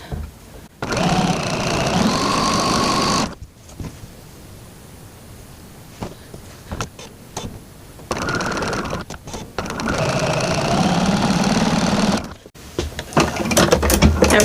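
A sewing machine runs in two long, steady bursts of close mechanical whirring while fabric is stitched, separated by short clicks and handling noises.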